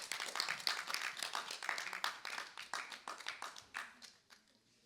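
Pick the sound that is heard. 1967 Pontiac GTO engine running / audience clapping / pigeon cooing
audience clapping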